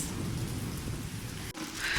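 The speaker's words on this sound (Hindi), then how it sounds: "ज़्यादा बारिश हो रही है तेज़।" Heavy rain hammers down loudly and continuously with a deep thunder rumble underneath, a brief dip in the roar just before the end.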